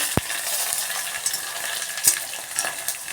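Mustard seeds, cumin and dried red chillies frying in hot oil for a toor dal rasam. A steady close sizzle hiss with a few sharp pops and crackles, and no voices.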